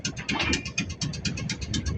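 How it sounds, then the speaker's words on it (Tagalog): A newly installed, freshly repaired boat engine runs close by, a rapid, even chugging pulse that repeats steadily throughout, with no voices. "Yung makina ni pare ko Genji, bagong sakay."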